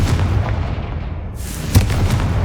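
A Confringo blasting spell from Hogwarts Legacy bursts with a heavy, booming rumble, punctuated by a sharp crack partway through and lingering explosive noise, loud and without speech.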